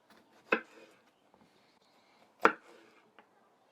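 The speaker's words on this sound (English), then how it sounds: "let's go ahead and cut these jalapenos" A knife cuts fresh jalapenos on a board, giving two distinct crisp chops about two seconds apart with a faint tap after them, close and otherwise quiet.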